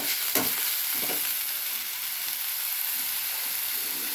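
A seasoned mixture is stirred in a pan with coriander leaves, giving a steady hiss of frying with a few scraping knocks of the spoon near the start, close and moderately quiet, with no voices.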